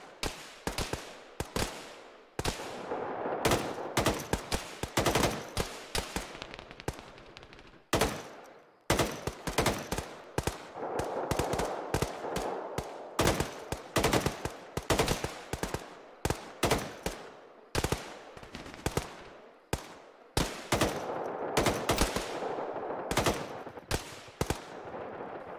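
Sustained gunfire in the military video game ArmA, with dense bursts of automatic fire and single shots cracking continuously and loudly, pausing only briefly between volleys.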